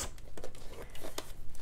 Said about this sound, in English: You can just use a pair of scissors. You want to cut a rectangle,